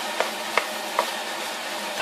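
Fried rice being stirred in a frying pan, with three soft scraping strokes at an even pace over a low, steady sizzle, close and fairly quiet.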